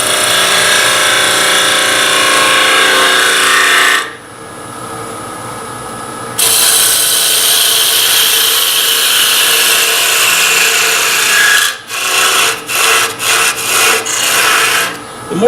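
A wooden Christmas ornament spins on a lathe as a tool cleans up its back side, a loud steady hiss and scrape that pauses once, then returns and breaks into several short cuts.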